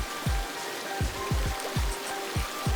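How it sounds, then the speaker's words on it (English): A flooded creek runs after heavy rain on Isle Royale, a constant close rushing wash with scattered low thuds and knocks beneath it, no voices. "Here's the creek situation."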